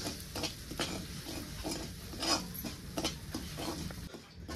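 Semolina roasts in ghee in a pan while being stirred, giving repeated scraping strokes over a soft sizzle, close and moderately loud, with a rhythmic pattern of stirring passes.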